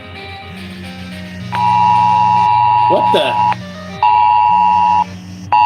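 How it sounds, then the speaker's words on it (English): An emergency alert tone on a mobile phone sounds as loud, steady electronic beeps in repeated long bursts with short gaps, over a low game-room hum, and a voice briefly exclaims partway through. "I'm getting an emergency alert on my phone."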